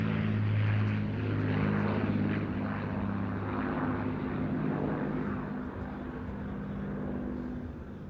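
Avro Lancaster bomber PA474 of the Battle of Britain Memorial Flight droning past in a sunset flying display at Ayr Show 2024, its propeller engines a loud sustained rumble that slowly fades over several seconds.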